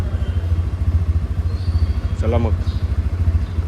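A mildly sporty car idles on a cold morning start after sitting overnight, its engine giving a close, even low throb, while someone speaks briefly over it.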